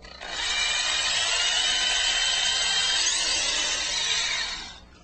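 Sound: drilling a clearance hole in a guitar body

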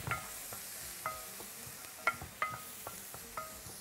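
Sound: butter and onion frying in a pan for Tunisian omelette

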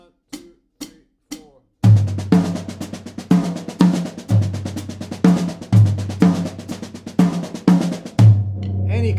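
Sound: drumset switching from low tom to high tom, Indian phrasing

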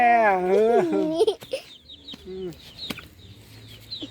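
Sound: chickens clucking

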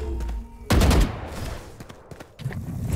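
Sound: sniper rifle gunfire in the video game Valorant

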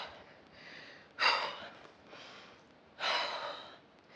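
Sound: deep breath into the belly during workout

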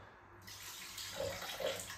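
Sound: water poured for cooking

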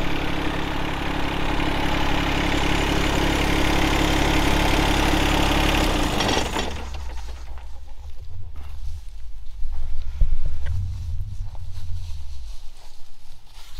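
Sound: John Deere 1025R tractor engine under hydraulic relief load

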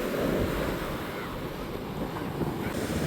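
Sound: sea waves washing up on the shore

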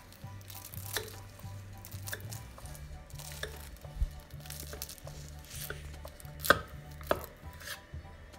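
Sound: crispy baklava pastry crackling

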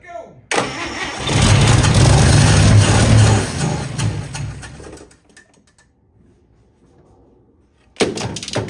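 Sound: 1955 Chevy engine cranking, trying to start

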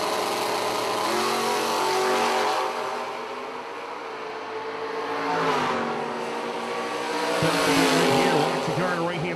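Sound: drag race car accelerating with nitrous

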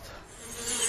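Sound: bees buzzing over flowers

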